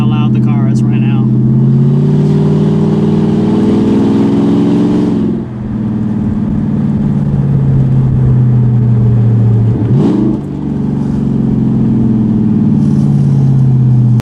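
A loud Lexus LS400 with a VIP-style build drones with a deep engine note that rises and falls in pitch over several long pulls, continuous and close throughout.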